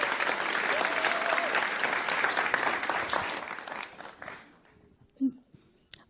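Round of applause from an audience at a food systems pitch event, dense clapping that holds for about four seconds and then dies away, followed by a few footsteps and a brief thump.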